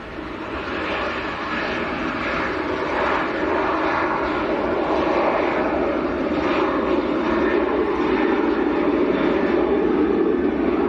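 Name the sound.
Jet2 Boeing 737 airliner at Manchester Airport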